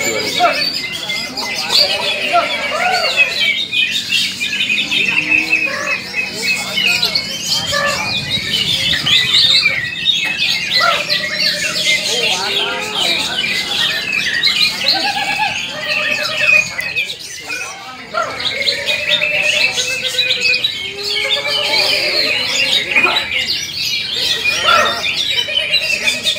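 Green leafbirds call loudly and continuously at a songbird contest, a dense tangle of shrill squawks, squeals and rapid chirps from several birds close by, with crowd voices murmuring underneath.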